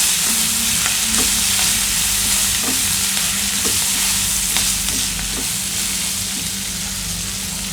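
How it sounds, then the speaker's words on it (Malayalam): Onions, green chillies and curry leaves sauté with salt in oil for a beans stir fry, giving a loud, constant sizzle over a low steady hum, with occasional spatula scrapes and no speech. "ഇനി അതിലോട്ട് കുറച്ച് ഉപ്പ് കൂടി ചേർത്തിട്ട് നന്നായിട്ടൊന്ന് വഴറ്റി കൊടുക്കാം"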